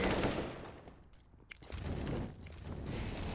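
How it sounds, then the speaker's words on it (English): Sustained suppressive gunfire in a Counter-Strike match, rapid automatic bursts fired into a tunnel, loud and continuous with a brief lull midway before the shooting resumes. "suppressive fire into monster tunnel"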